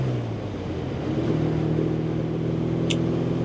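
A 1948 Triumph T100 Tiger, a 500cc air-cooled overhead-valve parallel twin, drones steadily while being ridden, its engine note rising as it pulls, loud and close, with no talk.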